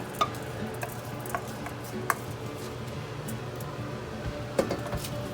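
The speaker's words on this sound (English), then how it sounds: "Then you just keep stirring it until it's cooked" A spoon scrapes and taps against a pot now and then while Filipino rice porridge (arroz caldo) simmers underneath with a low, steady bubbling.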